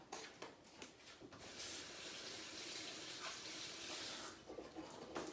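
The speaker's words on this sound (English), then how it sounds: "Wash my hand off." Hands are rinsed under a running kitchen tap after handling habanero peppers, a steady broadband rush of water with brief splashy interruptions near the start and end, fairly quiet and with no talk.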